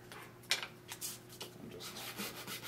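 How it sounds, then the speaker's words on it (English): Sandpaper rubbing against the tremolo block of a 1970s Stratocaster guitar, a short series of soft, close scratchy strokes with one sharper rasp near the start, heard alone. "So just sand that down a bit."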